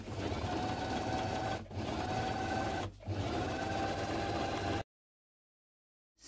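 A sewing machine runs steadily while stitching a quiet book page of fabric, a continuous close mechanical whir broken by two brief pauses, then it cuts off abruptly into silence with no talking.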